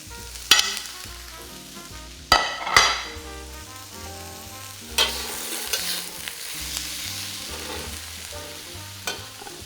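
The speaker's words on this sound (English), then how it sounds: "We're gonna put in our bok choy." Bok choy goes into a hot wok for a copycat Panda Express chow mein, giving a few sharp sizzling bursts and scraping stir strokes over a steady frying hiss, with no talking.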